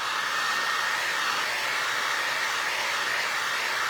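Hair dryer blowing on a vinyl-record snowman craft made with tissue paper, a loud steady airy whoosh held close without a break.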